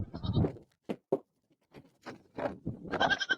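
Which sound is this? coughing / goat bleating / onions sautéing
goat bleating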